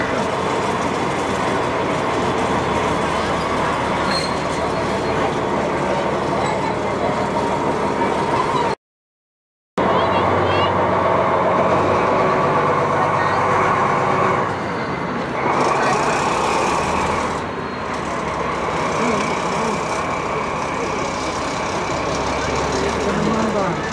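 An electric train with an observation car rolls past at a railway museum summer festival, a loud, steady rumble with clattering wheels and metallic squeals, heard close up; the sound briefly cuts out partway through.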